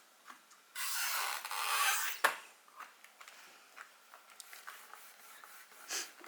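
Something rubs across paper stamped with Versamark ink for a Brusho color resist, making one firm, steady rasping stroke lasting about a second, then a sharp tap and a few faint scattered scuffs in a quiet room.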